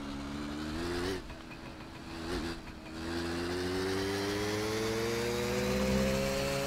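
A car engine in the driving game My Summer Car runs steadily and rises in pitch as it revs up, with a brief dip partway through; the engine is loud and continuous, with no talking.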